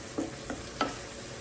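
Sausage fries in oil in a pan while browning, a faint steady sizzle with three soft stirring scrapes spaced across a short moment, close and quiet, no voices.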